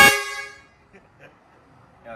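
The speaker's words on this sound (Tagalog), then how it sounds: "So, may air horn tayo dito." A compressor-fed air horn mounted under a Toyota Hilux off-road overland build gives one loud, close blast that fades within about half a second, followed by near silence with faint, indistinct sounds.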